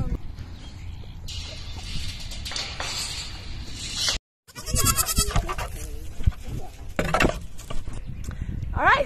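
Baby goats bleat repeatedly outdoors, several overlapping cries near and loud, with a person talking at times and a brief silent gap midway.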